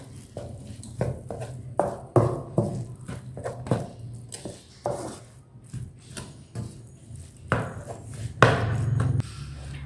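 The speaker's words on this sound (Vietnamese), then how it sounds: "Rồi bây giờ các bạn sẽ tắt bếp, mình trộn đều lên nhé." A savory filling of green onions is stirred in a pan with the heat off, giving irregular scraping, tapping and squishing strokes of a utensil against the pan, close and fairly loud, with no voices.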